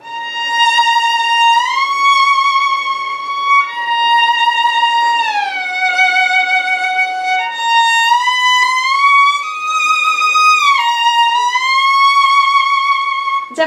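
Sea-Shell by C. Engel played with a sliding glissando between nearly every note, producing a clear, loud, siren-like melody that swoops up and down in long phrases with no talking.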